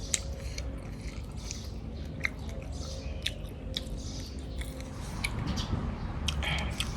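Close crunchy chewing, with repeated crisp bites and crackles over a low background hum, growing slightly louder toward the end.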